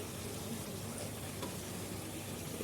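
A faint, steady sizzle of ground coconut paste frying in a pan, an even hiss with no talking and little variation.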